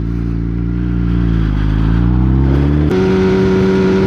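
A rebuilt Kawasaki ZX10-R sportbike accelerates hard with a loud, close, rising engine note, then a sharp quick-shifter gear change near the end drops the pitch as it pulls on.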